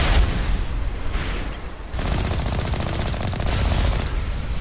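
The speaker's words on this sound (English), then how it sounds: "Using these Alliance heavy turrets." Alliance heavy turrets in the Mass Effect video game fire sustained, rapid bursts of gunfire, dense and booming, with a brief lull before the shooting picks up again.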